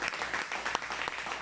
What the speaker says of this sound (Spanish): Vamos a dar un aplauso fuerte a los de Facebook.